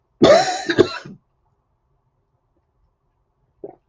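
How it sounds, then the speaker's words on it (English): A single harsh cough from someone with a cold, loud and close, with a rough, hacking burst, then silence and a faint, short second throat sound near the end. "I've also developed a horrible, horrible cough."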